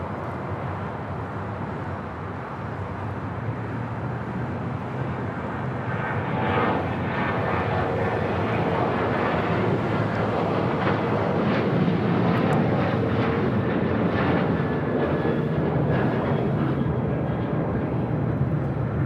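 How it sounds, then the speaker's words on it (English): An American Airlines Boeing 737-800 taking off at LAX, bound for Raleigh-Durham, sends a continuous jet roar that builds from a moderate rumble into a louder, fuller blast and stays strong to the end, with no one talking. "This is American Airlines 2343 taking off to Raleigh-Durham on a 737-800"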